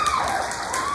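A holiday concert audience applauds as a performer is introduced, a short, even burst of clapping that fills the room.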